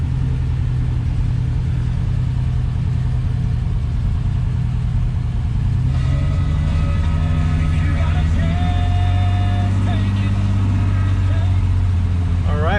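A 1973 Triumph TR6 engine runs on choke after a cold start, a steady low rumble that deepens and firms up partway through, heard close with faint squeaks near the end.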